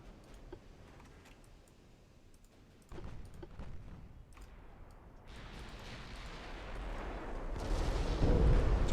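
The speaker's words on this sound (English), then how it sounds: "Torpedo hits the battleship." A torpedo striking a battleship in the naval warfare game Ultimate Admiral Dreadnoughts, heard as a dull impact followed by rumbling gunfire and booms that grow louder toward the end.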